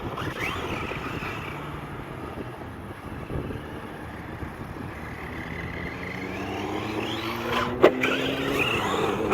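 A Landslide 1/8-scale RC truck drives outdoors on a windy day, its electric motor whining and rising in pitch as it accelerates, with wind buffeting the microphone and a sharp thud of impact near the end.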